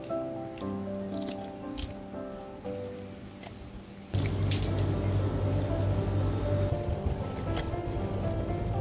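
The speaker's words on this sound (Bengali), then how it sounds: "বালতিটা করে এখন জল নিয়ে এসেছি, গাছগুলোতে জল দেব।" Water from a bucket is poured onto potted plants in hot weather. Quiet trickles and drips come first, then a louder, continuous splashing gush runs through the second half, close by, with no talking.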